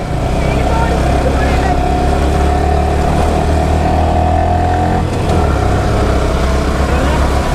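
A Yamaha R15 motorcycle, a v4 or v3, on a muddy offroad ride near Valparai, holds a loud, close engine drone that stays fairly even throughout with little variation in pitch.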